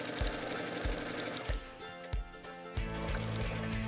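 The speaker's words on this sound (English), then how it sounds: "I'm going to stitch this all the way down" A sewing machine stitches a skirt seam with a steady, fast mechanical whir and a rhythmic needle knock, running close and continuous before briefly slowing and starting up again.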